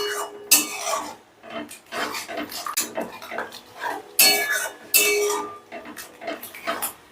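Yogurt being stirred into masala in a pan with a utensil, producing close, irregular scraping and clinking strokes against the pan at an uneven rhythm.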